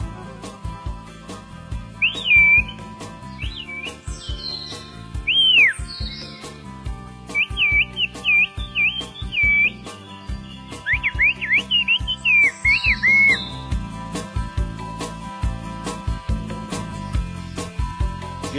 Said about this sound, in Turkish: Geliyor mu dediğini ıslıkla söyleyebiliyor.